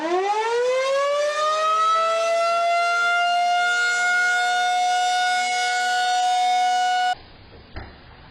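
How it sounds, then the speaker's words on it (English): Tornado siren bought online, sounded up close: a loud mechanical wail rises in pitch over the first seconds, then holds a steady howl for about seven seconds before cutting off abruptly into quiet background noise with a small knock. "they bought a tornado siren on the internet and loves to show it off"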